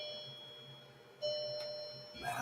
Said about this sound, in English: The clock that never chimes is chiming.